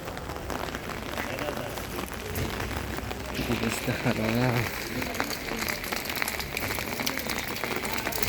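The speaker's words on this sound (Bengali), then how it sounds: "বৃষ্টি হচ্ছে দেখুন" Rain falls steadily on surfaces in a town in Bari, Italy, a dense, even patter that runs throughout while someone talks over it.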